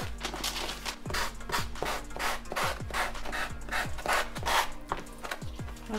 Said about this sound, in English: we can sand off the edges. I'm using a little sandpaper here. It's 120 grit.